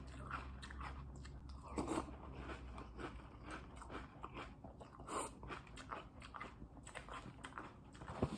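Close, crunchy chewing of Halloween Fruity Pebbles cereal softened in milk, with steady wet bites and mouth sounds running throughout and no talking.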